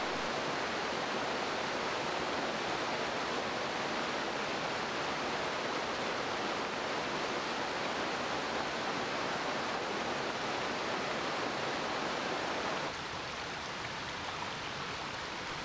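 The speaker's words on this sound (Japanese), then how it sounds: "谷川へはさらに小さな谷川がチロチロと流れ込んでいます。" Small mountain stream trickling into a larger river in the Shikoku mountains of Niyodogawa, Kochi, Japan: a steady, dense rush of flowing water, loud and constant throughout, with no voices.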